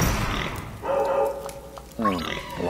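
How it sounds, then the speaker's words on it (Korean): A dog barks in the Zelda: Link's Awakening video game, heard as a short run of chiptune-like yips in a cave level over game music and sound effects. "멍멍이가 여기 갇혀 있나 봅니다."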